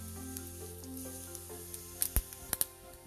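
Mustard and cumin seeds sizzling in a little hot oil in a pan, a steady close hiss with a few sharp pops and crackles near the end, no talking.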